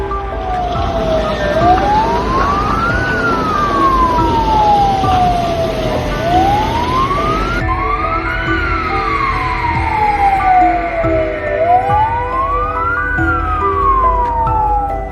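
Emergency vehicle sirens wail loudly at the scene of a large fire, rising and falling in slow repeating sweeps. They sound close and steady for the whole stretch over a low rumbling background.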